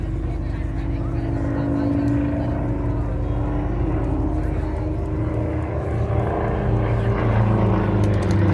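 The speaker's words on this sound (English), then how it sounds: "it looks like the aircraft is out of control, but Jeremy knows exactly what the aircraft" An aerobatic propeller plane drones and roars steadily at the Brisbane air show in Australia, a loud continuous engine sound with shifting pitch as it maneuvers, with a commentator speaking over it.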